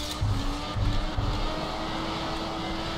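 A race car engine in the video game Track Racing Online hums at a steady pitch, with a few low bursts early on before it settles into a constant drone.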